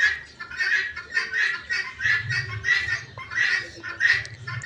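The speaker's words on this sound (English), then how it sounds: "Those are crows." Crows calling outdoors near a mast tree in a plant nursery setting, a run of repeated harsh caws in a steady rhythm at moderate distance.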